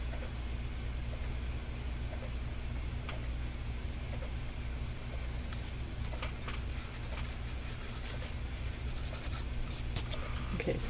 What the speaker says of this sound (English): I'm gonna put some glue from the glue stick as well